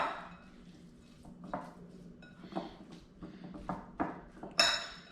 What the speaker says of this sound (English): I'm just gonna mix this in together.